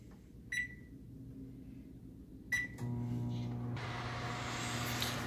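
A microwave oven heats a Jimmy Dean breakfast sandwich: two short, quiet beeps as the buttons are pressed, then the steady low hum of the oven running.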